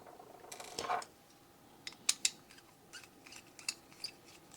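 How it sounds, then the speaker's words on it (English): A T7 screwdriver backs screws and bumpers out of an old PowerBook: faint, close clicks and small ratcheting scrapes with a few sharper metallic ticks against a quiet background, no talking. "we're just going to take our T7 driver here and remove these screws and bumpers"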